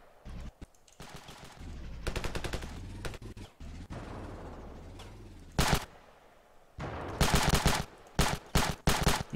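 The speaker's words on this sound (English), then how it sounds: "Oh, this is a much better gun." Bursts of automatic gunfire in the battle game Ravenfield, rapid rattling volleys with pauses between, loud and close, ending in several sharp punchy bursts amid distant battle noise.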